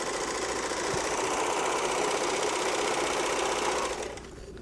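A sewing machine stitches rows of ruffles with a steady, close, continuous whir, using thick 12 weight thread with the machine cover open, then slows and stops near the end.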